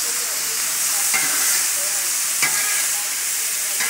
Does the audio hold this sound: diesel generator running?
no